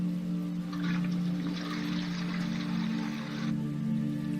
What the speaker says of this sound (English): Flush the toilet again.